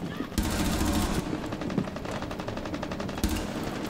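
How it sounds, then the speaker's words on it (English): Rainbow Six Siege gunfire rattles in loud, rapid automatic bursts, one long stream followed by a brief pause and another burst, close and dominant with no voices on top. "Yo, who's shooting like that, man?"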